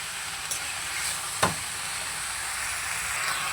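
Vegetables fry with fish head in a pan, giving a steady soft sizzle with a couple of sharp scrape-like clicks as they are stirred, close and moderate in level.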